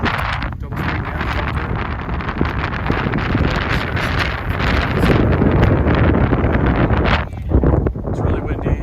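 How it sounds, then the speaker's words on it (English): Strong wind buffets the microphone on the Appalachian Trail, a loud continuous roar with gusty swells that nearly drowns out the hikers talking. "It's really windy."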